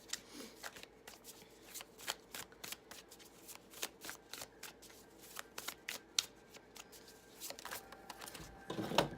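Quiet, rapid riffling of playing cards being shuffled, a steady patter of crisp flicks close by, with no talking.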